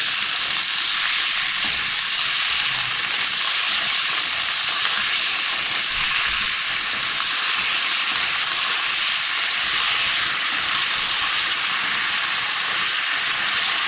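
Chicken with hot sauce and vinegar fries in a pan, producing a loud, unbroken hissing sizzle that stays steady from start to finish with no talking.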